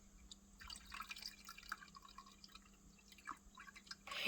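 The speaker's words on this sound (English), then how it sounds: "start putting water in it" Water trickles and drips into the small reservoir of an AeroGarden hydroponic indoor herb garden, a faint, steady splashing that stays soft throughout.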